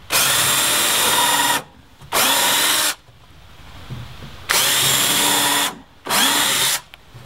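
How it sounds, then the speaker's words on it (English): A power drill boring pilot holes with a 3/32 drill bit into a wooden compost toilet door in a tiny house, four loud bursts, each about a second long, separated by short pauses. "I'm just putting some pilot holes in."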